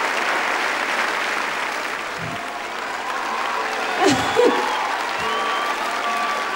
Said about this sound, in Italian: Non capisco perché il pubblico applaude.